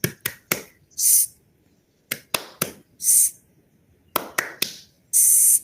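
A Scout 'tepuk angin' routine performed up close: three crisp claps then a hissing blown-air whoosh imitating wind, the sequence repeated three times in steady rhythm with quiet gaps between.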